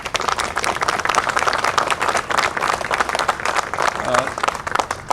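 Audience clapping at an outdoor police memorial wreath-laying ceremony in a park, dense, close hand claps rattling continuously throughout, with a voice briefly heard amid them.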